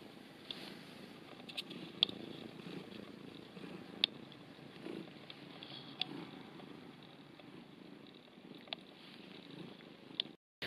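A kitten purring softly and steadily nearby, a low continuous rumble with a few small clicks and taps over it, no voices.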